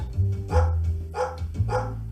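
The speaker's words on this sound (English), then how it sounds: "and a dog barking" Dog barking sound effect: three deep, full barks in a quick, even rhythm, close and loud with nothing else around them.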